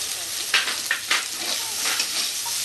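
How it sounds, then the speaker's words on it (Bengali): Chopped onion hitting hot oil in a pan of browned potatoes for a Bengali aloo begun chingri curry, a continuous close sizzle broken by a few scraping stirs of the spatula. "আলুটা লাল লাল ভাজা হয়ে গেছে আমি এবার একটু পেঁয়াজ দেবো এতে পেঁয়াজ দেবো"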